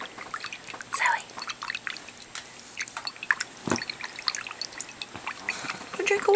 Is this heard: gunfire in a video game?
no